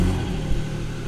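A 2019 Porsche 718 Spyder's mid-mounted 4.0 flat-six with sports exhaust gives a deep, steady, close engine rumble over a short moment, with no voices.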